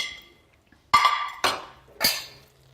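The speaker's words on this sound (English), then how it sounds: "I'm now gonna add in back the prawns that I had flash fried" Flash-fried prawns are tipped back into a pan of prawn risotto with asparagus and green peas: three distinct close clattering knocks of utensil against pan, spaced about half a second apart, with no talk.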